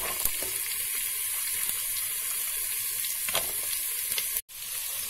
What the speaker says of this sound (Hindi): प्याज थोड़े देर भुनने के बाद अब हम इसमें गाजर और बीन्स डाल दे रहे हैं।